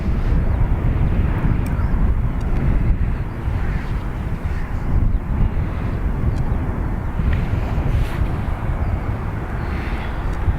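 Jet aircraft departing Dublin Airport runway 28 right, a loud continuous broadband roar with deep rumble that holds steady throughout, slightly fluctuating like wind buffeting, with no talk.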